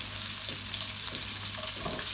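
Chopped onion sizzles and fries steadily in a pot while pilau rice is cooked restaurant-style at home, a continuous close hiss with faint stirring and no talk.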